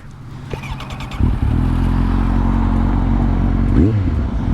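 A Kawasaki Z750 motorcycle with a Delkevic aftermarket exhaust cranks over and fires up, then settles into a loud, steady, throaty idle close by, with a brief blip of the throttle near the end.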